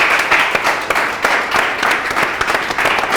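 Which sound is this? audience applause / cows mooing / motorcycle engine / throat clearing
audience applause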